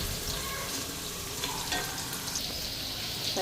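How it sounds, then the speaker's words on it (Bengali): Cauliflower sizzles and fries in a pan at home, a steady dense crackle running throughout at close range, with occasional faint clinks, and no voices. "ফুলকপি ভাজাটাও বসাই দিছি"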